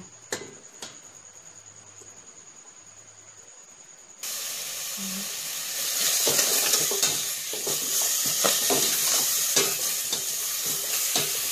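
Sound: stir-frying in a pan

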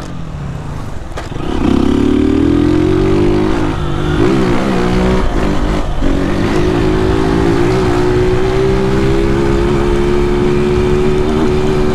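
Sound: motorcycle with tin exhaust pipe revving

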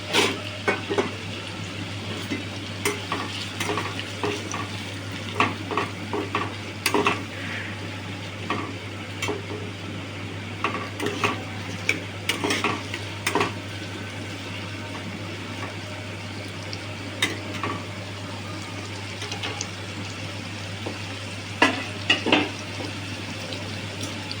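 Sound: thinly sliced onions frying and being stirred in a pot

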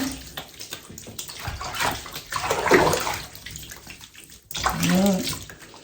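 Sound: washing a cat in a tub of water

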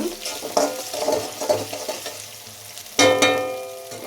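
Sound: vegetables frying and stirring in pan

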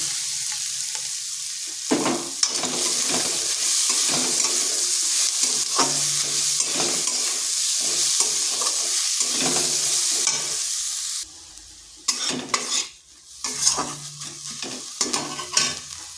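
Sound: peas being stirred and fried in a pan

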